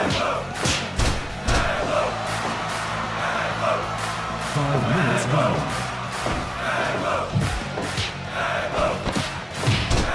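A wrestling crowd cheering and shouting in an arena during a house-show match, dense and steady, with scattered thuds and claps and a voice talking over it.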